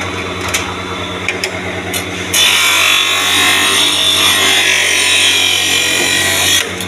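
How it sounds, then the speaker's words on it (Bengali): A lens cutting machine runs with a loud, steady mechanical whir that rises sharply partway through, holds for several seconds, then eases back down. "গাইস মেশিন চালু হয়ে গেছে আমার, আপনারা দেখুন আমি কাটিং করছি"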